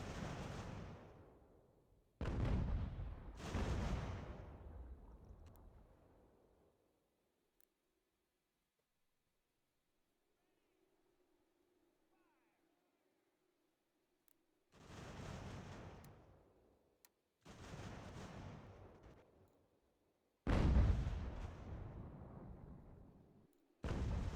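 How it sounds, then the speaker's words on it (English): Several heavy booming cannon blasts in an American Revolution strategy video game come in clusters, each decaying into rumble, separated by stretches of near silence with a faint low hum. "them cannons are still shooting at George."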